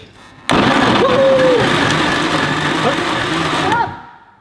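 A kitchen blender mixing kiwis starts abruptly and runs as a loud, steady whir for about three seconds, its pitch shifting slightly as it churns, then cuts off and winds down.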